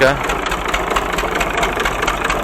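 An Ursus C360 3P tractor engine runs in frosty weather, a loud, close, steady diesel rumble with rapid knocking pulses and no break throughout.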